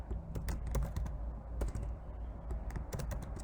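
Fingers typing on a Mac computer keyboard, quick irregular key clicks in small bursts, close and fairly quiet.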